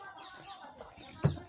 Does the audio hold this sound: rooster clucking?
yes